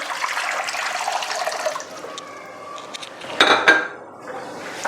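Water pours into a steamer bowl as a steady rushing stream for about two seconds, followed by a brief clatter of the bowl and a fainter trickle.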